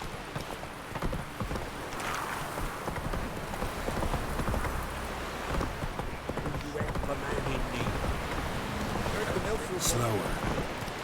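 Roach the horse gallops in The Witcher 3, a steady stream of hoof clip-clops under wind and outdoor ambience, with a voice talking throughout.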